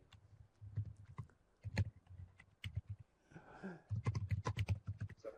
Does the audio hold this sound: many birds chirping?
no